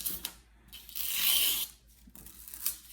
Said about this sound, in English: what we're going to do is pull off the card layer